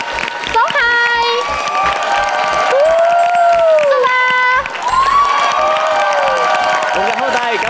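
Studio audience in a Vietnamese TV game show cheering and shouting loudly throughout, with whoops and rising yells, while a host speaks over the crowd.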